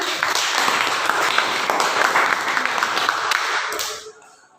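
Students in a junior high school classroom clap together in a dense, steady burst of applause lasting about four seconds before it stops abruptly.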